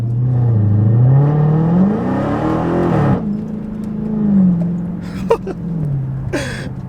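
A Dodge Challenger Hellcat Widebody accelerates hard on a straightaway, its engine note rising loudly and then dropping after a shift and continuing to pull, with brief clicks and a short rushing burst near the end.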